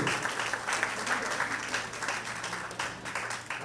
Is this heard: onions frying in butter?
no